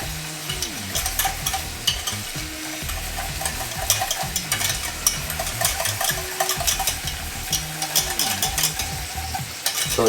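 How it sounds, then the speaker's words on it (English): A whisk stirs cheese sauce for homemade mac and cheese in a pan, making a continuous close scraping and swishing with a faint sizzle and occasional sharp metallic clicks, no voices. "Again, keep whisking it."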